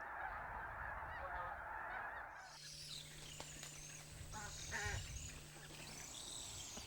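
Geese honk repeatedly at a distance over a steady outdoor background, with several overlapping calls in the second half.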